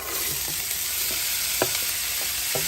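Mixed vegetables (green peas, carrots, onions and green kale leaves) fry in a little oil with a loud, dense, steady sizzle, punctuated by a few sharp spatula taps and no speech.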